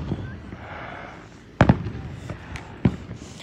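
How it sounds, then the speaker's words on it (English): Fireworks burst outdoors in a few sharp, loud cracks, a double pop followed by a single bang, over low background noise and faint voices. "There is a bunch of fireworks over there."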